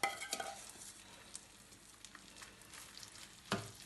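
Garlic and infused chilli hit a hot pan with a little marinade and sizzle steadily, with a few sharp clinks of a utensil against the pan at the start and near the end.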